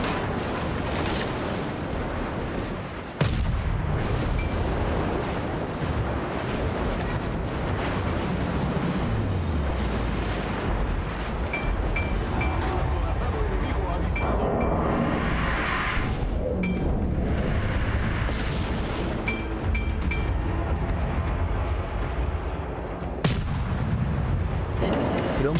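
Heavy naval gunfire from warships in World of Warships, with booming artillery salvos and blasts rolling continuously over a dense, loud battle din, punctuated by sharper shots near the start and end.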